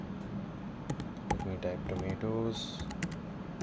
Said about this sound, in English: For example, let me type